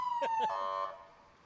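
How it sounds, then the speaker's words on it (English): A fire truck siren at the 2019 Paulding parade holds a steady, loud wailing tone that fades out toward the end, with brief voices over it. "I think that's the loudest siren in the county"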